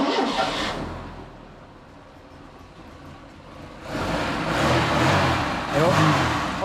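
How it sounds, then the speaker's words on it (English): Ford Pinto engine, still cold, running in a Mk1 Cortina, with a recently reconditioned cylinder head; a steady mid-range idle swells into a louder rev partway through, with a quick blip of the throttle near the end. "Obviously the engine's still cold, but yeah, this one purrs."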